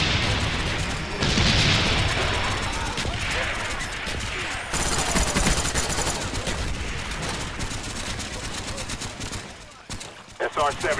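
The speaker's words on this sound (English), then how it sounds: "Mortar coordinates received, fire in four seconds." Explosions and gunfire from a mortar strike in Black Ops 1 multiplayer, a dense, loud barrage of booms and rapid shots running almost without break, with a sharp fresh burst midway and a brief lull near the end.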